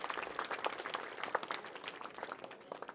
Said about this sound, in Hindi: एक बार जोरदार तालियों से बच्चों स्वागत और अभिनंदन करें हर मेहमान का।